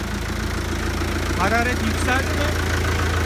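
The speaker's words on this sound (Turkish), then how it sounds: "Arkadaşlar traktör 1988 model. Hiç motoru yapılmamış." A 1988 tractor with an original, never-rebuilt engine idles steadily with a low, constant rumble, while people talk briefly over it.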